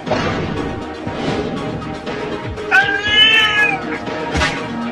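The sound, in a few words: cartoon cat meowing and attacking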